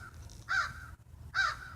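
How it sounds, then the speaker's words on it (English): Two loud, harsh caws from a crow, close by, separated by a short pause, over a faint low background hum. "I'm talking to the crowbirds."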